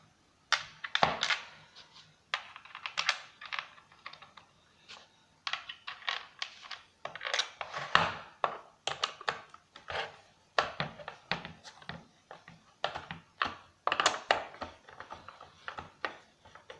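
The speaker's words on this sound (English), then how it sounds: "switch makes a nice clicky sound" A bench sander's switch clicks over and over in crisp, close, irregular bursts of snaps and ratchety clatter, with short pauses between flurries and no talking.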